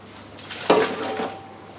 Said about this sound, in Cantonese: 咁我哋就個鑊呢啲水就倒咗佢啦